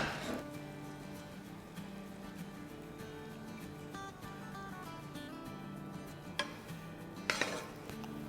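Cooked potato and pea curry being served, with soft clinks and scrapes of a spoon against a pot and dishes running steadily throughout and two sharper metallic clinks near the end.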